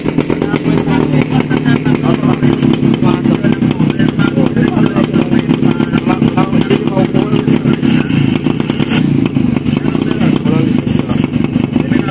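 A motorcycle engine runs loud and close with a rapid steady throb and some clatter, while people talk over it.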